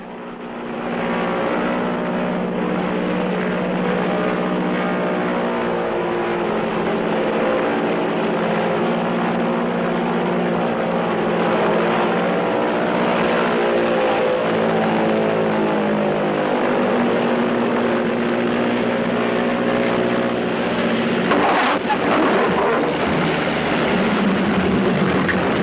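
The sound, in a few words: light propeller plane flying and landing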